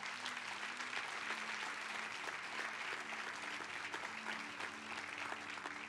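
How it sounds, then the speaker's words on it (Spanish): A church congregation applauds steadily and loudly throughout, a dense wash of clapping from a large crowd with no pauses. "¿Le puedo dar un fuerte aplauso?"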